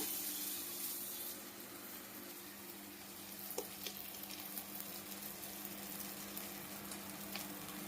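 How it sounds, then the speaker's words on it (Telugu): Spongy vada batter with a hole in the middle being slipped into hot oil, giving a continuous frothy sizzle with a few faint clicks, steady and close but fairly quiet, with no talk. "ఇప్పుడైతే దీన్ని మెల్లగా ఆయిల్లో కుదురుకుందామండి. అలా మొత్తము ఆయిల్లో వేద్దాము."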